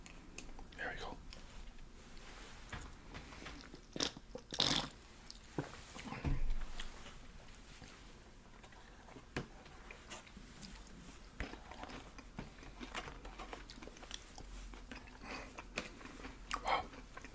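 Close, quiet chewing of spicy salmon sushi topped with crunchy onions gives soft crunches and mouth sounds, with occasional whispering.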